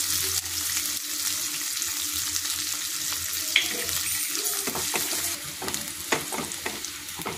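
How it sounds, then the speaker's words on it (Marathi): Onion and spices fry together in a pan, a steady hiss of sizzling oil with scraping and stirring strokes growing busier toward the end, close and moderately loud. "आणि हे सगळं एकत्र भाजून घेऊ।"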